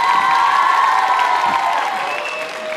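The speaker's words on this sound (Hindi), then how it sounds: "जोरों से तालियां बजाइए" A loud, continuous wave of applause from the audience at a college quiz show held with a women's club for New Year, with a few whoops and shouts mixed into the clapping as it slowly eases off.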